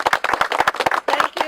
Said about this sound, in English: So I think Julie deserves a round of applause for doing that.